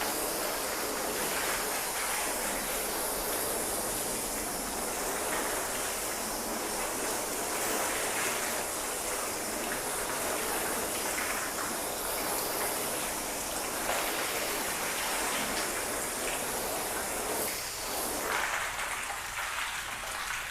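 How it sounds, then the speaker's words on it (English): Water spraying and rinsing down sealant test panels on a car after five months of weathering, a continuous close hissing wash of spray, steady and loud throughout with no talking. "so that is thoroughly rinsed down"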